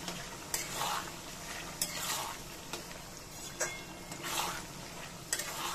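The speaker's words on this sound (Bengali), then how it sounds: "সসের মধ্যে একটু জল দিয়ে ধুয়ে আমি দিয়ে দেবো, দিয়ে এটা একটু নাড়াচাড়া করে নিই" Chicken in sauce is stirred around a pan, a spoon scraping in repeated strokes about once a second over a steady low sizzle, with occasional sharp clinks against the metal.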